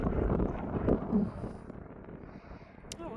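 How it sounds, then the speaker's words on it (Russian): Wind gusting along a seaside promenade by the ferries in Tallinn, a broad rushing buffet on the microphone that is strongest in the first second and then eases to a steadier blow. "Ветер немножко поднялся."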